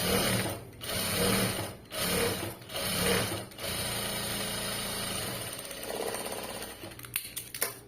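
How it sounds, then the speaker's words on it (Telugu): A sewing machine stitches fabric in several short whirring bursts, then one longer continuous run before it stops, close and steady with no talking. "ఇలా ఉల్టా తిప్పేసుకుని ఇంకా పైప్ హేమింగ్తో పని లేకుండా స్టిచ్ వేసేస్తాం"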